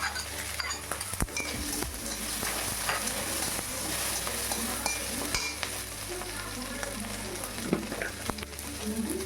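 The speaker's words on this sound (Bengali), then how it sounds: "চিংড়ি মাছটা একটু ভাজা ভাজা করে নেব।" Prawns fry in a pan with mustard, green chili and pepper, a steady dense sizzle with spatula scrapes and clinks against the pan, close and continuous, with a faint voice in the background.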